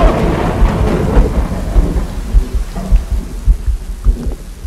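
Thunder rumbles through a rainstorm in the horror game Dark Fracture, a loud rolling boom over steady heavy rain, with a few rhythmic low thuds trailing off.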